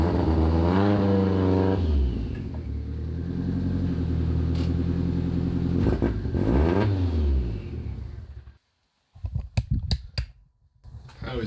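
A car's engine revs and labours through slow parking manoeuvres, its pitch rising and falling for several seconds before cutting out, followed by a few sharp clicks and light knocks nearby.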